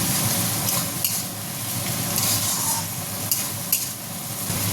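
Chopped tomato added to softened onion sizzles in a pan for a mutton curry, with steady close frying hiss, light stirring scrapes and a few soft utensil taps throughout.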